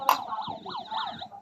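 A toy fire truck's electronic siren wails in rising and falling sweeps after a sharp click, fairly close and steady, with faint rumbling handling noise underneath.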